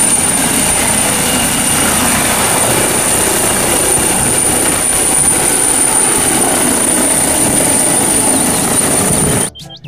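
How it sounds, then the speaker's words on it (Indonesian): A military helicopter's steady rotor and engine roar fills the clip continuously at close range, loud and unbroken, cutting off abruptly just before the end. "Di sini ada helikopter militer."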